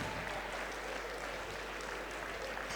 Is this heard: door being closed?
no